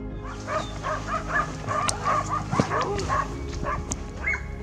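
Hunting dogs bark and yip in a scattered chorus at middle distance during a wild boar hunt in Tajikistan, with whimpers and faint voices mixed among the barks.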